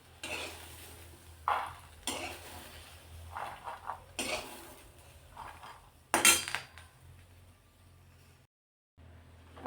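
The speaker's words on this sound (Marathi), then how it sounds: "आता हे एका प्लेटमध्ये काढून घेते।" Roasted fresh green chickpeas scraped and scooped from a kadhai onto a plate with a metal spoon, giving close, irregular clinks and scrapes of utensil on pan in separate bursts, then a brief silence.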